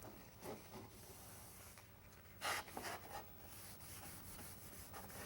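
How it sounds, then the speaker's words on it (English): A cloth wipes excess stain off a wooden board in quiet, soft rubbing strokes, with a brief louder swipe midway and a low hiss between passes. "I will apply a stain to the entire board. Wipe off the excess."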